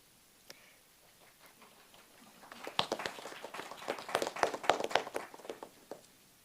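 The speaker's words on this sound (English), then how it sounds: "There was an applause from the room, from the pupils" Pupils in a room break into applause: a few scattered claps at first, then a fuller burst of many hands that swells, peaks and thins out toward the end, fairly faint and somewhat distant.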